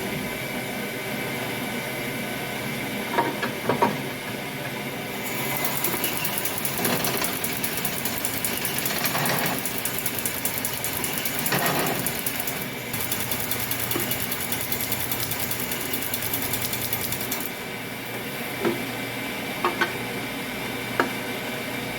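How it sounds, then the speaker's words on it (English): Steady whirring hone with a fast rhythmic ticking truing up axle bushings on a McDonough transmission, close and continuous, with occasional knocks and a brighter hiss in the middle stretch. "I'm going to go true up the axle bushings. I'm going to hone them up for size and alignment."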